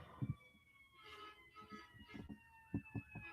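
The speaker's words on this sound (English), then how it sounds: "Ambulances or fire trucks and police, whatever the heck going on out there." Sirens of ambulances, fire trucks and police cars passing outside in Detroit, heard as faint, distant, steady wailing tones with some low bumps and rustle underneath.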